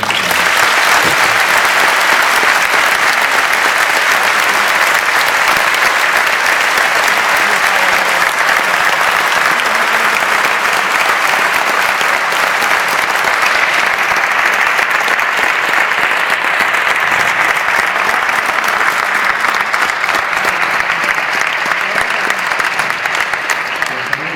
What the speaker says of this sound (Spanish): les pido por favor un aplauso para Pep Guardiola